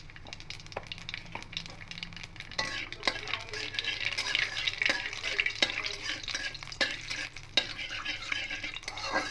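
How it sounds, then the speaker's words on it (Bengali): Nigella seeds fry in hot white oil in a wok, giving a steady faint sizzle with scattered sharp clinks and scrapes of a spatula stirring against the metal, heard close with no talking. "একটু হালকা করে ভেজে নিচ্ছি কালো জিরাটা"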